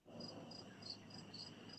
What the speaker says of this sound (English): Brock, straight up here, crickets. Yeah, it's called summertime